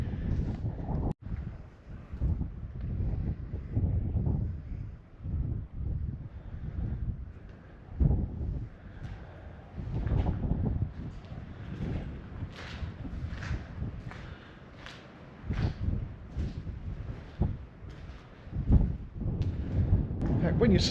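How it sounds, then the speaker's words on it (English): Gusty wind sweeps across an abandoned WWII airfield and buffets the microphone with a continuous low rumble that swells and fades, while a voice talks over it. "you can actually feel the wind blowing through"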